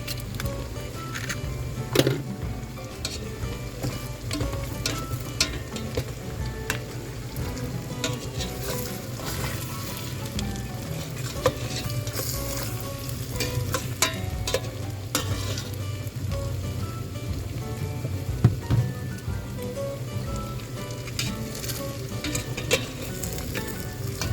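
Two eggs frying in a pan for a creamy macaroni soup, a steady close sizzle with scattered scraping stir clicks running throughout.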